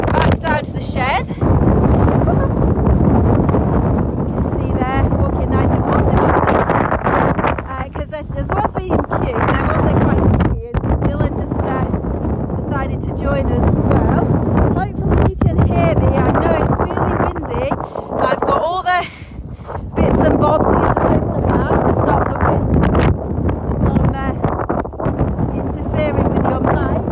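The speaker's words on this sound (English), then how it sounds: "It might be windy, but we can put up with a little bit of wind" Steady, heavy wind buffets the microphone on a farm with sheep and alpacas, a continuous roaring rumble with occasional gusty surges and brief dips.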